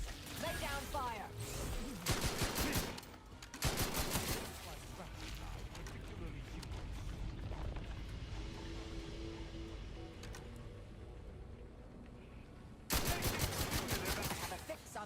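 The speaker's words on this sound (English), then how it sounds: "Lay down fire." Rapid bursts of video game gunfire, machine-gun style fusillades in several loud clusters separated by quieter stretches, with voices speaking through parts of the action.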